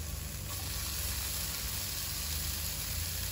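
Rinsed potato slices fry in a little oil mixed with sesame oil, giving a steady, dense sizzle that stays even and close throughout with no talking.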